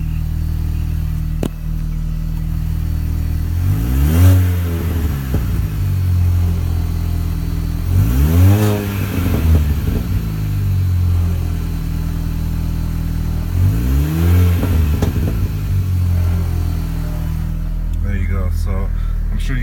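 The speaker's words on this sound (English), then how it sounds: "let me rev it and see if you guys can hear it through the cabin." A straight-piped R53 Mini Cooper S is revved three times from inside the cabin, each rise and fall clear over a steady droning idle, with faint crackles at the end.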